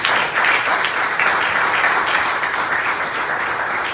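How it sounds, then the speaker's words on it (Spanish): A church congregation claps steadily and loudly for about four seconds, the applause filling the space with no talk rising above it. "Denle un aplauso a Cristo"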